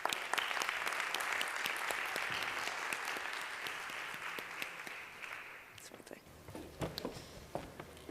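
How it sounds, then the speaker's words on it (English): Audience applause at a Salesforce-hosted Nomads BA tech event, a dense sustained clapping from a large room that tapers off over several seconds into scattered claps and murmuring. "could we get a big round of applause for them"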